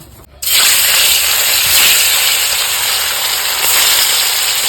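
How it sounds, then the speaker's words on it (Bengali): A sudden loud sizzle bursts in as Bombay duck (lote fish) hits hot oil in a wok, then settles into a steady, close, hissing fry that continues throughout. "এই যে কড়াইতে তেল গরম হয়ে গেছে, কিন্তু আর মাছটা দিয়ে দেবো।"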